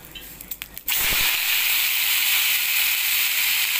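Cumin seeds and about ten peppercorns drop into hot oil with a few light taps, then burst into a loud, steady sizzle that hisses on without pause.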